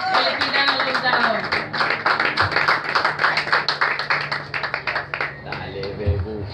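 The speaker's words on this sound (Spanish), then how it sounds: "Un aplauso para Fede." A small group claps in an uneven patter while voices call out over it, and the clapping thins toward the end.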